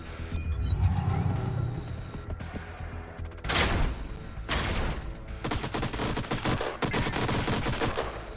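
Turret gunfire in the strategy video game Age of Wonders: Planetfall, loud bursts of automatic fire and heavy impacts breaking out in several clusters, with the densest rattling volley near the end.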